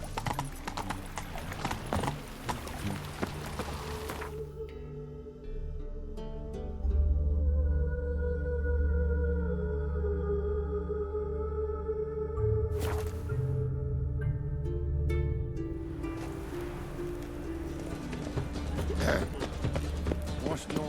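In The Witcher 3 video game, the horse Roach gallops with steady rhythmic clip-clop hoofbeats under game music. Characters speak at the start and again near the end.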